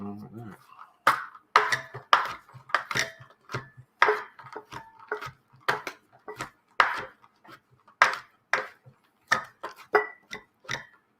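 Sharp knife chops land on a cutting board, chopping raisins in a quick irregular series, close and fairly crisp, with brief pauses between bursts.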